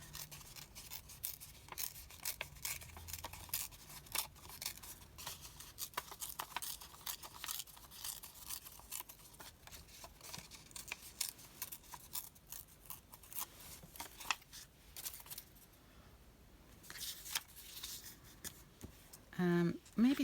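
A random book page ripped by hand for a craft project, with scattered papery rustles and tearing sounds amid handling noise, while a person talks quietly.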